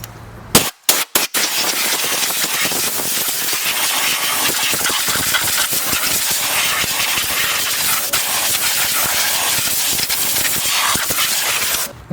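Compressed air blasts steadily and loudly over the engine of a 2005-2009 V6 4.0 Mustang, clearing debris from around the passenger-side valve cover in a continuous hiss after a few short opening bursts.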